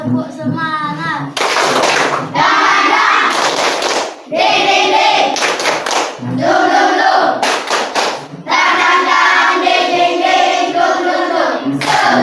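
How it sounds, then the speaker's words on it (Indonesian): A school class performs a tepuk semangat routine, bursts of rhythmic group clapping in patterned sets alternating with children's chanted shouts, loud and close, with short pauses between sections. "Tepuk semangat."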